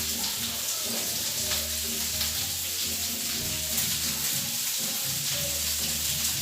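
Asparagus and garlic fry on a hot griddle with a constant close sizzle and light crackling, plus faint stirring and watery hiss, without speech.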